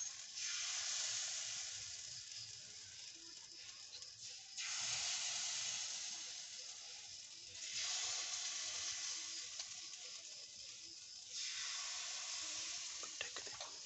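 Pitha batter sizzles on a tawa over a clay stove, a quiet steady hiss that swells in three separate bursts as portions are poured, with no one speaking.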